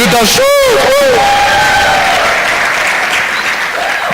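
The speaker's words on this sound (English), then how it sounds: "one more final round of applause" A large audience at a national exhibition opening ceremony gives a final round of loud applause, dense clapping mixed with cheers and whoops, a whistle-like voiced cry near the start, crowd babble underneath throughout.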